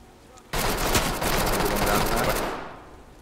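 Close-quarters gunfire in the tactical shooter Ready Or Not erupts as a loud, dense burst of rapid shots lasting about two seconds, then tails off.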